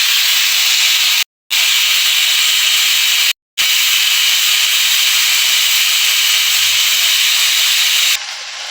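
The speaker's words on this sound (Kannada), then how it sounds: "ಕುಕ್ಕರ್ ಕೂಗಿದೆ ಆಫ್ ಮಾಡ್ತಾ ಇದ್ದೀನಿ ನಾನೀಗ" A pressure cooker cooking hotel-style idli sambar lets out a loud, continuous, sharp steam hiss, broken twice by brief silences, then eases slightly at the very end.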